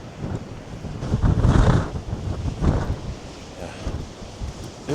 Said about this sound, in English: again it's very windy here.